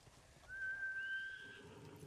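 A horse in the video game Ghost of Tsushima gives a single drawn-out whinny, rising and then fading, over a faint background of ambient game sound.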